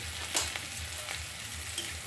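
Spices sizzle and fry in a pan on a gas stove while cooking a stuffed parwal dish, a steady close crackle with faint stirring clicks and no talk.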